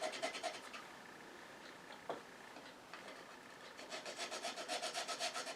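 Faint, rhythmic back-and-forth scraping as a small wooden turned piece is rubbed flat on 150 grit sandpaper glued to MDF, with quiet strokes at the start that grow steadier and louder toward the end.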